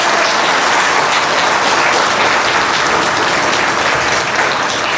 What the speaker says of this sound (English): Give it a round of applause, please.